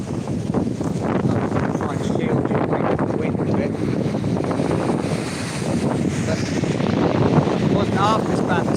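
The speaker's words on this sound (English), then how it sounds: "I don't know if you can hear me because of the breeze, I hope so." Strong wind buffets the microphone on a blustery seaside shore under a stiff southeasterly, a loud, continuous rumbling roar throughout, with faint talk beneath it.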